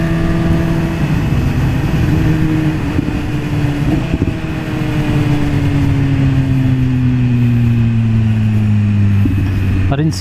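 A BMW S1000RR motorcycle engine drones steadily during a test ride, its pitch holding then easing down gradually, with constant wind rush throughout.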